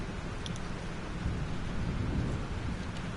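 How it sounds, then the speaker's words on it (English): A thunderstorm in the video game Life Is Strange brings deep, continuous rumbling thunder with a dense wash of heavy rain, loud and unbroken, with no voices. "Holy shit. This storm is real."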